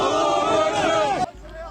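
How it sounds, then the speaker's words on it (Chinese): A crowd at an earthquake rescue site in Turkey shouts and cheers together as a young man is pulled from the rubble. The voices are loud, close and blended, then break off abruptly. "现场大家话声欢呼"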